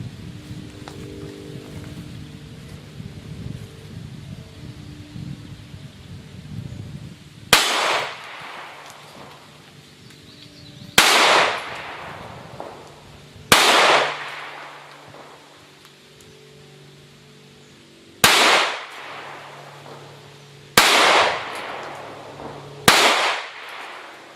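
Six sharp gunshots from a Smith & Wesson SD9VE 9mm pistol firing CCI Blazer ammunition at an outdoor range, spaced several seconds apart, each a loud crack with a ringing tail over faint background noise.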